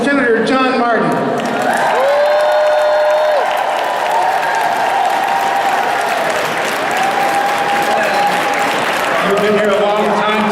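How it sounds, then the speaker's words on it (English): A loud political rally crowd claps and cheers continuously after a senator is introduced, with whoops and whistles rising over dense, sustained applause. "I'm glad to see such a loud and such a vocal crowd today."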